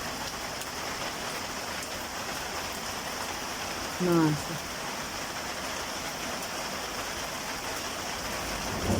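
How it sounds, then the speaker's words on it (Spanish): Steady rain falls through the whole stretch as an even, dense hiss, with a brief Spanish-speaking voice breaking in near the middle. "Pero no se ve la lluvia, no."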